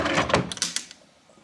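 A bottom drawer in a Glasgow hotel club room slides open and shut, heard as a short close rumble with a few knocks and a clack that fade quickly into quiet.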